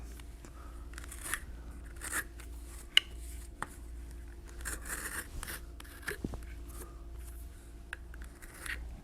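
A blade skives leather for a saddle bag strap connector, thinning the ends around the holes in short scraping, crunchy cuts repeated irregularly in a quiet workshop.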